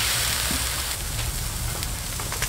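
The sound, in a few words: beef tripe boiling in pot of water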